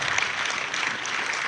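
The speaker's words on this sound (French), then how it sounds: "Vous pouvez vous applaudir." Steady, dense applause from an audience at a closing evening for a family energy-saving contest in Chambéry, filling the whole moment with continuous clapping and no pauses.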